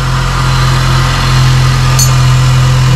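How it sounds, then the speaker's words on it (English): The engine of a 2002 Honda Jazz idles steadily and close up, a loud continuous low rumble and hum with even vibration throughout. "the engine sound really good"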